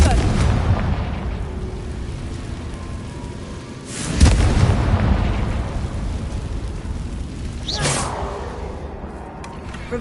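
Fire-spell blasts in Hogwarts Legacy: two booming, crackling bursts stand out over a continuous rumbling game soundscape, the first heavier than the second.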